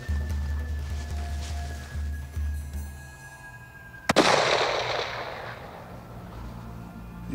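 A single loud rifle shot cracks out during a hunt in Africa, a sharp blast followed by a long fading rumble of echo over a quiet outdoor background.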